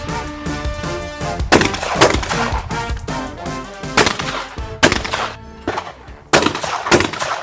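Shotgun blasts crack out repeatedly at a sporting clays shoot outdoors, loud sharp reports coming in irregular pairs and singles with short echoing tails, the bursts spread over several seconds.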